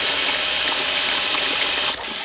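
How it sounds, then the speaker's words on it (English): Water gushes through an RV deionizing water filter into a bucket, a loud, close, steady rushing flow that eases slightly at the end. "We'll turn the water, you can hear it flowing through."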